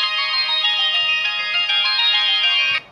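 A phone ringtone plays a bright, steady electronic melody for almost three seconds during a run of repeated harassing calls, loud and close with no talking, before cutting off abruptly.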